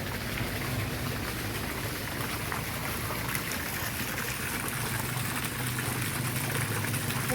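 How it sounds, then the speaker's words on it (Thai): Waterfall at a riverside coffee shop in Phichai district, a steady broadband rush of falling water filling the whole stretch, close and constant with no talking. "ดูน้ำตก ดูน้ำตกดูปลาเนี่ย"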